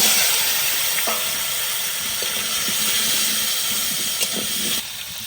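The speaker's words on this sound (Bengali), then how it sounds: "মাছ ভাজার তেলে আলু ভেজে নেব।" Potatoes frying in oil left over from frying fish, a close, steady sizzle and hiss with occasional stirring clinks and taps, easing off in the last half second, no talk.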